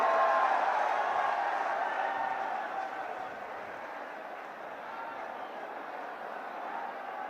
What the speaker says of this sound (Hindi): जोरदार तालियों से मेवात की तरफ से स्वागत होना चाहिए।